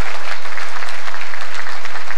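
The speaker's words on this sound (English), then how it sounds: "Let's give them all a big round of applause" A crowd at a Chinese business association's New Year gala in Toronto claps loudly, a dense, steady wash of applause that fills the hall with no voices rising above it.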